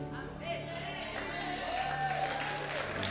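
Steady applause from a church congregation carries through the whole stretch, fairly faint and diffuse, with a voice talking over it.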